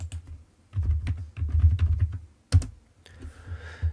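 Bursts of quick keystrokes on a computer keyboard, typed in short clusters with pauses between, close and fairly quiet, while entering spreadsheet sheet names.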